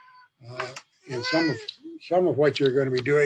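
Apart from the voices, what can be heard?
cat meowing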